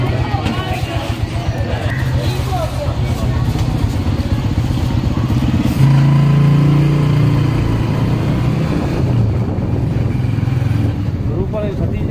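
A motorcycle engine runs steadily and close in a village during night-time festival illuminations for Eid Milad-un-Nabi, with crowd chatter and clatter mixed in throughout.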